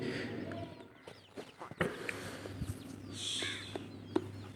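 Chickens cluck softly and intermittently while eating lemongrass, faint and somewhat distant against a quiet background hum.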